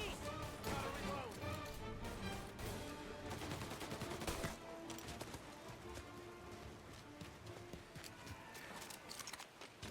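Rapid gunfire rings out in a Mafia Definitive Edition shootout, dense volleys of shots cracking almost nonstop with sharp bursts through the first half, easing slightly toward the end amid continuous game noise.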